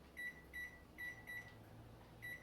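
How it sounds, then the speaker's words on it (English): A digital kitchen timer, set while baking healthy muffins, gives three quick paired electronic beeps at regular intervals over a low background hum. "I'll set the timer for 25 minutes."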